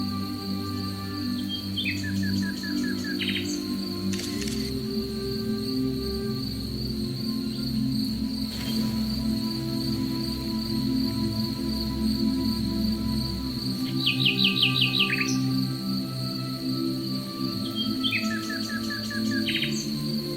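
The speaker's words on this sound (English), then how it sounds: "Calmer, more peaceful, in this meadow gently lulled by the cricket's song." Crickets chirp steadily in a meadow at night, a continuous high trilling layered with repeated rapid chirp bursts and soft insect drones, with no voices.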